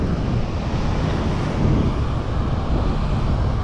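Steady, roaring wind buffeting the microphone at a Florida beach, with surf rumbling underneath throughout; no voices.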